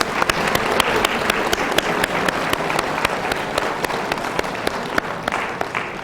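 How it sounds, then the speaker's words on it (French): A church congregation at a retreat in Paris claps loudly and steadily for six seconds, a dense wash of many hands with sharper individual claps standing out and a faint voice underneath. "Let us give a mighty clap to the Lord."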